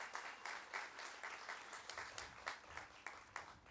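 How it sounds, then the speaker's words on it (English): Round of applause for essential and frontline workers at a Class of 2021 physician assistant graduation ceremony, heard as faint, thin clapping from a modest crowd, steady with scattered individual claps standing out. "We could give a round of applause for that as well."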